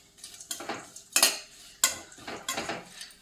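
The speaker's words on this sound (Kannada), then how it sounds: "ಪಿಸ್ತಾನು ಕೂಡ ತೊಗೊಂಡಿದ್ನಲ್ವ ಅದನ್ನು ಕೂಡ ಫ್ರೈ ಮಾಡೋದಕ್ಕೆ ಹಾಕ್ತಾಯಿದ್ದೀನಿ" Pistachios being fried in a pan for a millet and dry-fruit laddoo: a handful of distinct clinks and scrapes as they are stirred around the metal pan, close and fairly quiet, with no voices.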